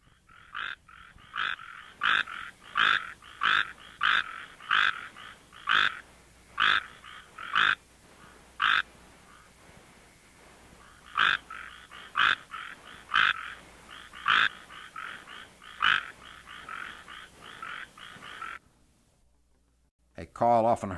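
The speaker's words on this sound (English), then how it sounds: "This is a mating call of Hyla microeximia, recorded near Tepic in the state of Nayarit," Mating call of the tree frog Hyla microeximia, recorded near Tepic in Nayarit, Mexico: a close, clear series of short pulsed chirping calls repeated in rhythmic runs with brief pauses, ending in silence before a voice begins.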